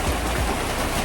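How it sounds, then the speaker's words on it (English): Torrential downpour in Bohol, Philippines, a dense steady hiss of heavy rain close by with no let-up across the short stretch. "Torrential downpour."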